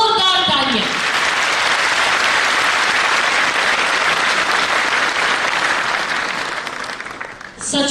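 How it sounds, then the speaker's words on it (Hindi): Loud, sustained applause from a large audience at a state-level teacher honour ceremony in Jaipur, dense clapping that fills nearly the whole stretch and tapers slightly near the end. "ऊपर से नीचे तक एक बार जोरदार तालियां"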